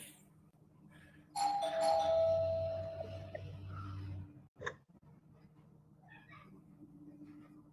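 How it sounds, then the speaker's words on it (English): A doorbell chimes once, loud and close, its ringing tone lingering for a few seconds before fading into quiet room noise. "Someone's here, the doorbell."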